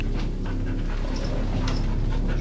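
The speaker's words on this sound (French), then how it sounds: "Cette chienne est spécialement dressée pour débusquer les produits stupéfiants" A female sniffer dog trained to find narcotics pants steadily and close, with quick rhythmic breaths over a constant low background rumble.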